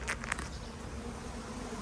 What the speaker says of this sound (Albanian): ja bleta